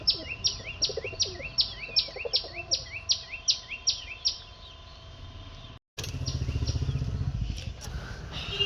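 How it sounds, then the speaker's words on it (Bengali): Pigeons in a home loft, a rapid series of about a dozen sharp repeated chirps over a low hum, followed by a louder burst of rumbling noise after a brief gap. "এই আমার লফট"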